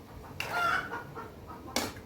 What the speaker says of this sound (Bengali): মুরগিগুলো ডাকছে